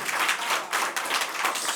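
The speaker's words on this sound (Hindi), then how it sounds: "तालियों से एक बार स्वागत करें" At a Hindi poetry stage event, the audience breaks into applause, a dense wash of clapping that swells and dips in waves over about two seconds, close and fairly loud.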